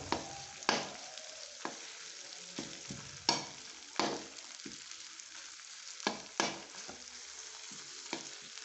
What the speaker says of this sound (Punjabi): ਵਿਚਾਲੇ ਘਿਓ ਪਾ ਕੇ ਥੋੜਾ ਜਿਹਾ ਤੇ ਵਿੱਚ ਹੀ ਇਸ ਤਰ੍ਹਾਂ ਇਹਨਾਂ ਨੂੰ ਫਰਾਈ ਕਰ ਲਿਓ